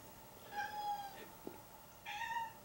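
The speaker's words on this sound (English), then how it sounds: "That's my cat." A house cat meows twice, close by, with a short pause between the two drawn-out calls over a quiet room background.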